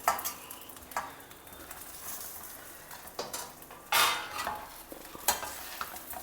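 Idli pieces tossed in masala in a pan, producing soft sizzling under repeated spoon scrapes and metallic clinks against the pan, with a few louder bursts of stirring.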